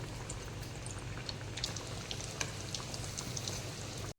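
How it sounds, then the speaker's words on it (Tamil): Chicken cheese cutlets frying in hot oil give off a steady, close sizzle with a dense crackle of tiny pops that runs unbroken throughout. "சூடு எண்ணெயில் நல்லா போட்டு இந்த பக்கம் அந்த பக்கம் ஒரு 4 திருப்பி சுட்டு எடுத்துக்கணும்."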